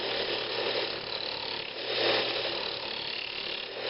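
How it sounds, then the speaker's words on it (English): Carbide cutter on a half-inch bar hollows the inside of a wooden Christmas ornament spinning on a lathe, giving a continuous close grinding, whirring scrape that swells slightly partway through, with no voices. "I'm just using a carbide cutter on a 1/2 inch bar. I'm just trying to bring the wall thickness down."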